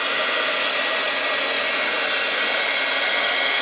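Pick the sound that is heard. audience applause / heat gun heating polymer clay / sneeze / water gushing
heat gun heating polymer clay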